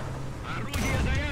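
A tank cannon fires in the War Thunder video game, one sharp broadband boom partway through followed by a rumbling tail, heard under someone talking.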